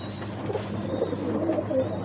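Pigeons cooing softly in a coop, a low murmuring burble that continues steadily at moderate distance with faint background noise.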